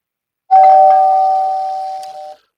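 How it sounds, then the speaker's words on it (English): A doorbell gives a single clear electronic chime that sounds close and loud, then holds and fades slowly over about two seconds before cutting off. "Doorbell is ringing."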